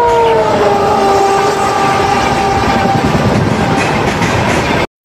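A train in the mobile game Indian Train Crossing 3D sounds its horn in long falling tones over a loud, continuous rumble and clatter of wagons, cutting off abruptly at the end.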